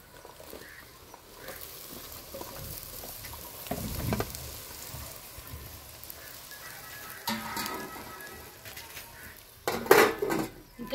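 Raw banana pieces frying with onions in a pan, a steady soft sizzle close by with occasional spoon scrapes and clinks against the metal, no talking.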